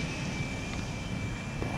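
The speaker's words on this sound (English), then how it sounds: "Ooh, it's exec jet time." Executive business jet passing overhead near an airport, a steady broadband engine roar heard at a distance under outdoor ambience.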